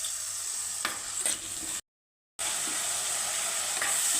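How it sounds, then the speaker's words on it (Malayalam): Onion sizzles and fries in a pan for prawn theeyal, a steady crackling hiss with occasional stirring scrapes, broken by a short gap of silence midway. "ചെറുതായിട്ടൊന്ന് വഴറ്റിട്ടുണ്ട്."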